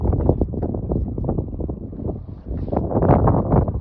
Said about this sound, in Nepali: माउन्ट वालिङ्टनमा एकदम हावाहुरी लगाइरहेछ